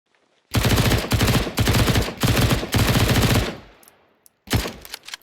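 A MAC-10 submachine gun fires in Counter-Strike 2, with five loud, sharp, rapid bursts in quick succession, then a decaying tail and a short final burst, close and clear.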